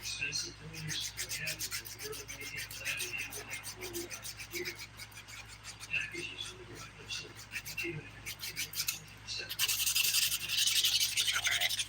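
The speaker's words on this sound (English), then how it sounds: "I'm using the 180 grit side of my file just to smooth out these glitters" 180-grit nail file smoothing glitter dip powder nails, a close rapid scratchy rasping of short strokes going on steadily, with a voice talking over it.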